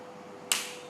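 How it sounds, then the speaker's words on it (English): A lone hand clap snaps out sharply in a seminar room in Phuket, Thailand, its bright attack trailing off in a short room echo above a steady faint hum. "Every time I clap, write down the first thought that comes to mind."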